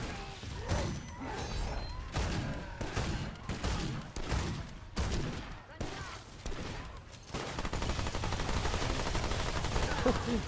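Gunfire in Remnant 2: dense, rapid shots crack out repeatedly at close range, then merge into a sustained barrage of continuous fire, with voices talking faintly underneath.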